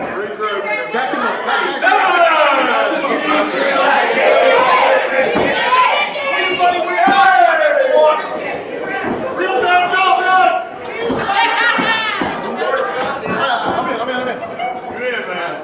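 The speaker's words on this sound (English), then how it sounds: "Certainly the GIPW crowd is the most talkative crowd" Wrestling fans at a GIPW independent event murmur and chatter in a dense, lively hubbub of many overlapping voices, with occasional louder shouts and thuds, close and continuous.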